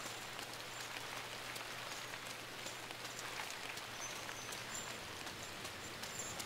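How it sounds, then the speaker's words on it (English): Rain falling at night in the side-scrolling video game Inside, a steady soft patter and hiss of drops that stays constant and quiet throughout with no talking. "It's raining."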